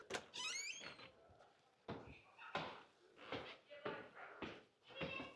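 A door is opened at a garden building, with a series of wooden clunks, knocks and a short creak, moderately close, and soft voices and movement around it.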